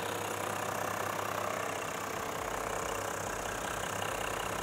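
A steady, low mechanical rumble of an idling Toyota Land Cruiser 100 series diesel engine, constant and close, with no voices.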